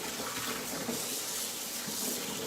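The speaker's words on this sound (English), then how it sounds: "This is just cold water." Cold tap water runs steadily over boiled eggs in a sink, a continuous broadband splashing hiss with no pauses, fairly close and even in level throughout.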